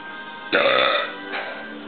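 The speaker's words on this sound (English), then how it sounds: "If I got gas, I'm gonna burp." A single loud, close burp with a short rumbling tail, followed by a fainter second gurgle, no speech.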